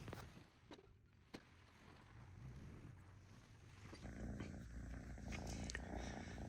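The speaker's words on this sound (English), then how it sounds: "we got a replacement cat" A replacement barn cat, a kitten, purrs softly and steadily up close, a faint continuous rumble with a few small clicks and rustles on top.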